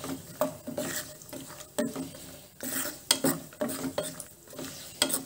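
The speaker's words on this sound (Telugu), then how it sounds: "వీటిని నెయ్యిలో వేయించుకుందాము." Half a cup of cashews frying in hot ghee, a soft sizzle under repeated clinks and scrapes of a spoon stirring against the pan.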